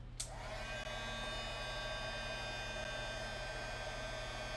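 A heat embossing tool blows hot air during card making, giving a steady, faint electric whir with a constant tonal hum. It runs alone without pause after a small click at the start.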